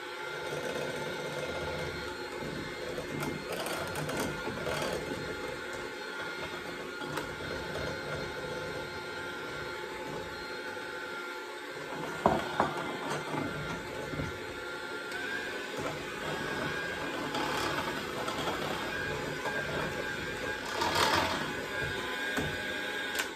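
Stand mixer whirring steadily as it blends flour and dry ingredients for orange slice cookies, a continuous close motor hum with a slight rise in strain partway through.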